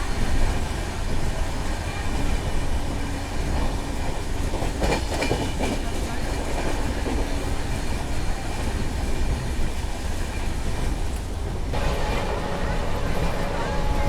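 The Amritsar Shatabdi express passenger train rushes past at about 130 km/h, a loud, continuous roar with rattling rail clatter that shifts character near the end.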